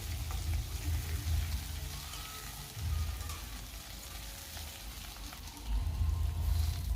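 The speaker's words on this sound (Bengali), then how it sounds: "আলুটা কিছুক্ষণ নাড়াচাড়া করে নিয়ে আমি একে একে দিয়ে দেব সজনে ডাঁটাগুলো।" Potatoes and drumstick pieces sizzle steadily as they fry in a pan for a rohu fish curry, with a continuous close crackle and occasional stirring swells.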